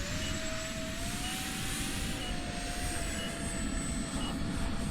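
A radio-controlled NGAD model jet flies slowly overhead, its electric ducted fan giving a continuous loud whine with a steady tonal pitch that slowly rises and falls, with no talk.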